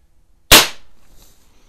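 A single sharp shot from a .177 CO2 pellet pistol, either a Webley Nemesis or an Ampell Acro 1, cracks loudly and close after a brief silence, then fades out quickly.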